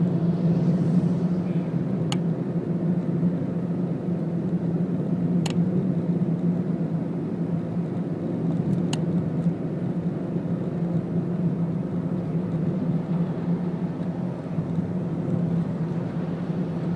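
Steady interior drone of a car cruising at 70 km/h on a Malaysian road, a constant low engine and tyre rumble with a few faint ticks, no talk.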